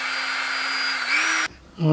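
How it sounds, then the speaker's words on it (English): A power tool fitted with a sanding disc cuts a hole while fitting an extra water temperature gauge to a Grinnall Scorpion; a steady, close motor whine rises slightly in pitch, then cuts off abruptly, followed by a brief thud. "It zips through pretty quick, them sanding discs."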